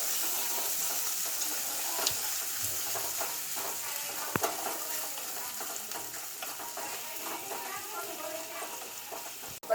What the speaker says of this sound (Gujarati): અને તેલમાં આપણે સાતળી લઈશું